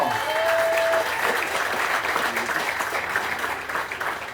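An audience at a magic show bursts into sustained applause, dense clapping from a full room that holds steady then fades slightly near the end, with a brief whistle early on.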